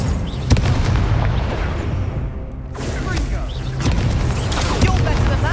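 A fiery Incendio spell cast in Hogwarts Legacy, a loud, roaring whoosh of flame with booming bursts, dense and close, dipping briefly before surging again amid game combat noise.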